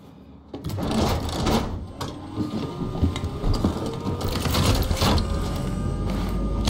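A vehicle engine in the Cyberpunk 2077 video game cranks and fires up after a brief quiet moment, then runs steadily with a mechanical, rattling idle that stays loud and close for several seconds.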